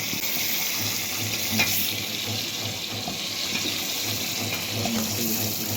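Chicken fries with spices in a hot pan with a constant loud sizzle and hiss, broken by occasional scraping and stirring sounds.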